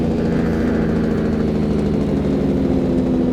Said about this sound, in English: this is what a J-brake on an 18-wheeler sounds like.